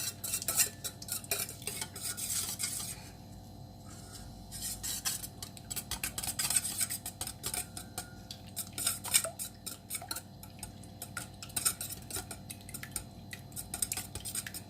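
Four cracked eggs being whisked in a bowl for castella sponge batter, a quiet continuous rapid clatter and clicking of a utensil against the bowl, close and steady with no talking.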